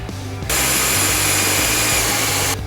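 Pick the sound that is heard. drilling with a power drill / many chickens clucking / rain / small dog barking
drilling with a power drill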